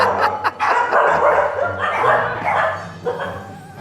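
Several dogs bark loudly and continuously, reacting to a person wearing a cat mask, with overlapping barks, yips and whimpers forming a dense, close, excited chorus.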